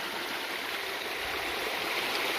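River water flowing steadily in a Brazilian river where diamond prospecting takes place, a continuous broadband rush of stream water with no breaks, moderately loud and close.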